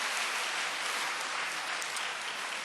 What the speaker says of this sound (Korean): 우리 옆에 있는 분 보시고 박수 쳐주시길 바랍니다.